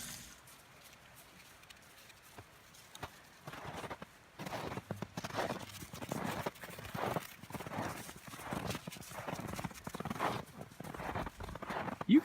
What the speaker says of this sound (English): And now, some bonus donkey footage from yesterday before the great snow.